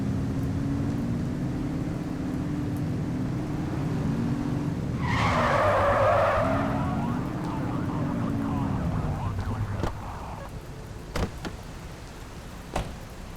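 Tires skid loudly mid-drive as a car in The Precinct, a PC crime driving game, slides, with a steady engine drone before and after and a few sharp thuds near the end.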